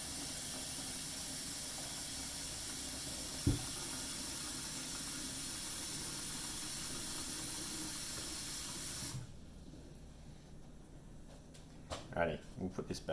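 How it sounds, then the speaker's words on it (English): Cold tap water running steadily into a bowl for soft-boiled eggs, a constant close hiss and splash for about nine seconds that then cuts off, leaving faint kitchen clatter. "In case you didn't know how to fill a bowl with water."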